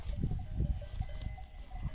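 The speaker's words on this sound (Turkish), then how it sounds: "Bugün de güzel böyle koyun yayıyoruz arkadaşlar." Sheep and lambs grazing on pasture, several soft bleats rising in quick succession over a low shuffling background.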